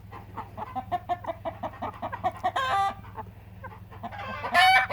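Americana chickens, young juvenile birds, cluck repeatedly at close range in a busy coop, with a few louder squawking bursts breaking out midway and again near the end.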